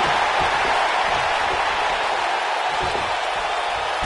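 Arena crowd in the WWE 2K19 wrestling video game cheering steadily as a broad, continuous roar throughout, with no talk over it.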